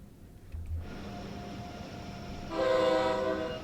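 A train in Train Sim World 3 on the NEC New York–Trenton line runs at up to 150 mph, a steady rumble that swells as a loud sustained horn sounds near the end, with no talking.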